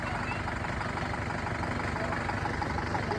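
A tractor engine idles steadily at a wedding venue, a continuous low rumble with faint knocking texture, moderately distant and unbroken throughout.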